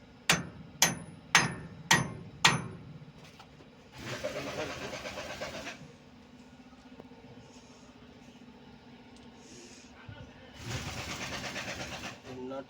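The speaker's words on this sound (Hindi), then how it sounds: "क्वार्टर बोल्ट हम इसमें मार देते हैं" A quarter bolt is hammered into the kingpin spindle of an Ashok Leyland BS4 truck: four sharp, evenly spaced metal hammer strikes ring out close up, followed by rumbling workshop and engine noise.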